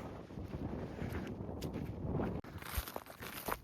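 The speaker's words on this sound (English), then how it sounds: "it's one, very windy" Strong wind buffeting the microphone outdoors in a field of wheat stubble, a rough, continuous rumbling roar with a brief dropout and some rustling near the end.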